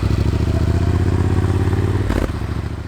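A Triumph Speed Twin 1200 fitted with Akrapovic slip-on exhausts and a Motone X-pipe idles with a deep, steady, pulsing burble close by, then briefly changes pitch with a short throttle blip before settling back.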